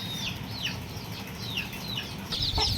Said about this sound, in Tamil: நம்மளுடைய கோழிகள்லாம் பாருங்கள் எவ்வளோ கோழிகள் நம்மள்கிட்ட இருக்குது அப்படின்றத